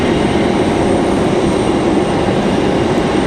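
An Air Canada Jazz Embraer E175 jet rumbles steadily at an airport, a loud, continuous broadband roar of engine noise holding level throughout with no voices.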